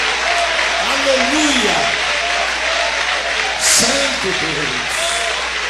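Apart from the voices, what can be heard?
church congregation applause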